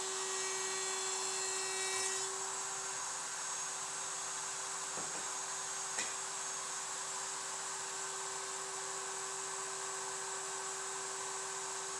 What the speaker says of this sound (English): Cut the first side of the tail, and then flip the board over and cut the second side.